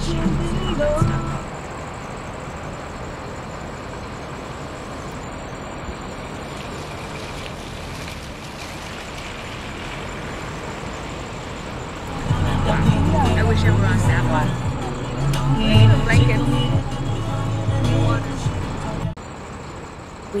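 Steady low road rumble and engine drone heard from the last row inside an overnight bus travelling in Myanmar, with a louder, rougher stretch of vehicle noise toward the end and a person talking over it.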